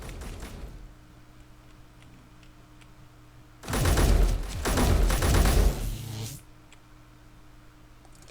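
Gunfire in the Space Engineers survival game, a sustained burst of rapid, loud automatic shots lasting a few seconds, rising sharply out of a quieter mechanical hum and ticking.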